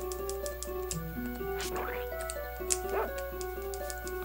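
A dog in the video game Secret of Evermore gives several short yips and whimpering barks, near and clear over a looping game tune, with a few rising cries clustered midway.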